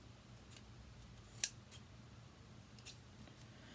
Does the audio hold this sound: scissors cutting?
yes